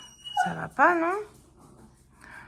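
A dog whines and whimpers in short high yelping bursts, wanting to be let outside, heard fairly close at a moderate level under and between bits of a person talking in the room.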